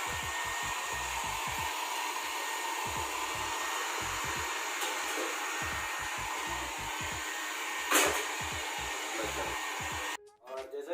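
A hair dryer blows steadily and loudly while a dog is dried after a shampoo, its continuous airy roar broken by repeated low thumps and a brief rustle, then cutting off near the end.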